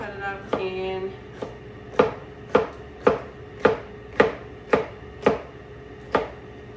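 A knife slices pepper on a cutting board in about nine crisp, evenly spaced knocks, close and clear, with no talking.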